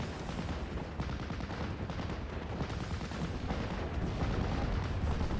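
Anti-aircraft gunfire in a WWII strategy video game, a dense continuous barrage of rapid shots and booming blasts filling the whole stretch, loud and steady with no talk.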